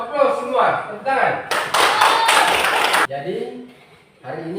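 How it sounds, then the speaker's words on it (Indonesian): A classroom of students clapping hands together, a burst of dense applause lasting about a second and a half between stretches of a teacher talking in Indonesian. "Aplaus semua, tepuk tangan."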